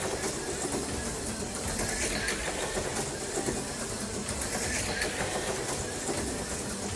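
An electric slot car races around a track at speed, giving off a continuous loud whirring buzz that holds steady throughout with no pauses and no voices.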